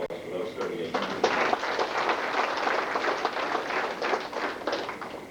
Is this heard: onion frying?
no